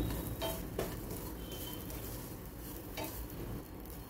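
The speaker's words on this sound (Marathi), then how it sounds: "आता इथे मी ड्रायफ्रूट घालून घेणार आहे आणि ते सुद्धा थोडे भाजून घ्यायचे" Dry fruits roasting in a pan after semolina for kheer, a steady soft sizzle with scattered stirring scrapes and a few light clinks, close and continuous throughout.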